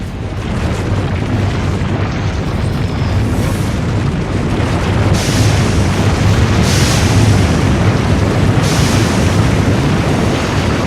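Self-destruct explosions rumble nonstop in the video game Afterfall InSanity, a loud deep booming roar with windy hiss over it and occasional brighter bursts breaking through, and no talk.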